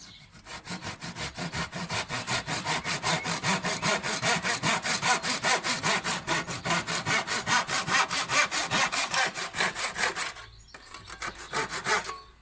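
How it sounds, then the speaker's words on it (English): A tenon saw cuts a kitchen worktop at a 45-degree angle in a fast, regular rhythm of close, loud strokes. A brief pause comes near the end, then a few final strokes. "Use this tenon saw because it's quite straight."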